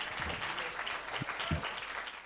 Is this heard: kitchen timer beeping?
no